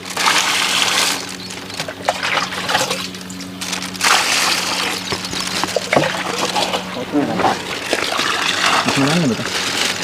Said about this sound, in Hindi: ये अभी पानी है, पानी डाल रहे हैं जी, पॉलीथीन में।